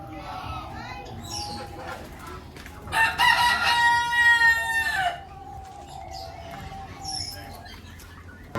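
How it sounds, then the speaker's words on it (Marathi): Roosters of unusual breeds at a farm in Nashik, India, crow once loudly and at length in the middle, with softer clucks and distant chatter of voices before and after. "बघा इथं वेगळेच कोंबडे आहेत."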